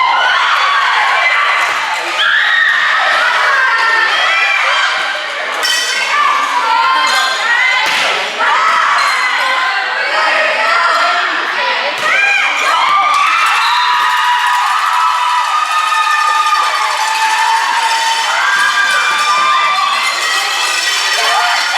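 A loud indoor crowd at a 2020 senior volleyball match, with steady cheering and children shouting throughout, plus occasional thuds from play.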